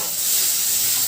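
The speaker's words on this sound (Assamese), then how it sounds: "তৰকাৰী উতলি আছে পুৰা" A pot of curry, cooked with potato and fish, boils steadily in a home kitchen, giving a continuous, fairly loud bubbling hiss and sizzle with no pauses over a short stretch.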